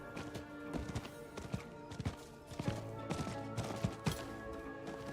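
A mounted horse in the video game Diablo 4 moves along, its hooves clip-clopping in a quick, uneven rhythm over a soft bed of game music and ambience, with no one speaking.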